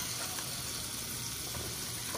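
Oil sizzling steadily in a pan as the base for an andouille sausage dish in a shrimp and grits recipe, a constant close crackling hiss with no talk.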